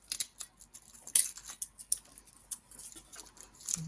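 A knife slices through the papery top of a garlic bulb in a quiet kitchen, giving a run of close, crisp little clicks and crunchy snips with brief pauses between cuts.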